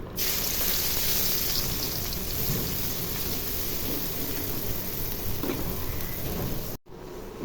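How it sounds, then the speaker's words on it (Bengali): Onions frying in hot oil for birista, in oil already used to fry broiler chicken, giving a steady dense sizzle throughout with no talk. "মাংস ভাজা ওই তেলের মধ্যে এখন পেঁয়াজের বেরেস্তা করে নিব।"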